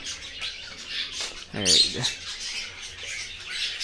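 Several birds, including parrot-like birds, pigeons and doves, squawk and chirp in short bursts in an aviary at an amusement park, fairly close, with one loud harsh call in the middle and some talking in the background.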